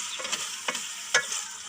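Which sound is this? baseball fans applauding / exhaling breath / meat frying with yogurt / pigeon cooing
meat frying with yogurt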